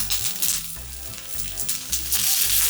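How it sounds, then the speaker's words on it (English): Peppers and onions sizzle steadily in olive oil in a hot pan, a loud continuous hiss and crackle of frying with no talking over it. "Don't you hear that sizzle?"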